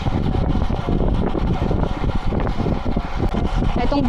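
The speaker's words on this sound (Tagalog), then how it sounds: "Etong part na to medyo mahangin eh." Wind buffets the microphone in a constant low rumble during a ride through an open stretch without buildings on Yas Island, Abu Dhabi, loud and close, with no pauses.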